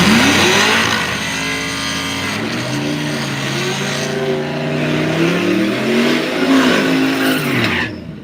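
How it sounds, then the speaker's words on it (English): A loud car engine revs hard while tires squeal and skid during a burnout at a demolition-style event, the pitch rising and falling across the whole stretch. "Ooh, that was a good burnout."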